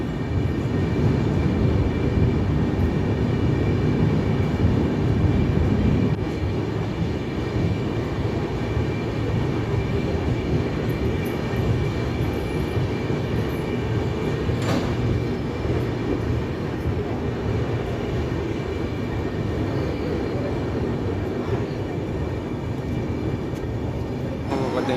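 The Cheran Express pulls into Erode railway station with a steady, continuous rumble of wheels and carriages that holds at a fairly even loudness throughout.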